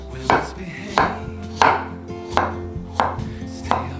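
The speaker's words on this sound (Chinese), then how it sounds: "把馬鈴薯切片" A peeled potato is sliced with a knife, giving six crisp, evenly spaced chopping strikes close up with no talking.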